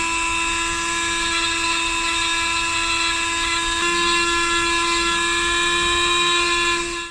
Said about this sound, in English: I'm just getting my Dremel ready for cleaning up.